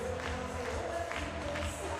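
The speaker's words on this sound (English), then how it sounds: "Crowd on their feet here." Wrestling crowd at a Glory Pro Wrestling show, on its feet and cheering with scattered applause, a steady dense roar of voices filling the arena with a few swells.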